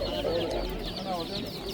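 Roosters and hens at a poultry market in Samarkand, giving continuous overlapping clucks with a few crowing bursts, close and steady, within a busy crowd din.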